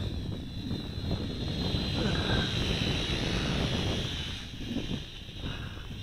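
A JJRC H10 quadcopter drone flies and banks through turns with a faint, steady high-pitched motor whine mixed with wind noise. A person speaks over it.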